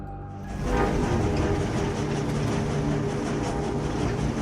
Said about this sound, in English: A train grinds to a halt inside Auschwitz for the first time